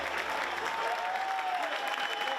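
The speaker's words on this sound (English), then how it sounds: "there's his mum there, clapping her hands" Steady applause from a crowd at a Battle of the Colours 2016 event, with a mother clapping her hands among it, sustained and even at moderate distance without breaks.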